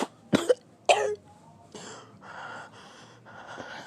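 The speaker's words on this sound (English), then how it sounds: "as he's gasping for breath." An anime character gasps for breath and coughs, with two sharp gasps and a harsh cough up close, followed by several quieter, drawn-out raspy breaths.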